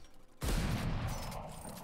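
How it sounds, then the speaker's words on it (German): A single sharp shot firing an arrow in the video game Valorant, a sudden loud blast followed by a dense, decaying rumble, no voices. "du hast gerade einen deiner 5 Schüsse dafür verwendet, den Pfeil zu schießen"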